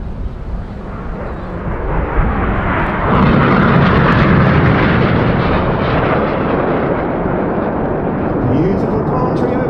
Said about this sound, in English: Up they go, the 7 aircraft trailing white smoke, red 6 and 7 staying low.